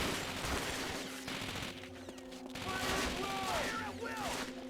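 Enemy gunfire crackles in a Call of Duty Finest Hour battle, rapid bursts of shots mixed with game music, whistling tones and other battle effects, fairly quiet overall.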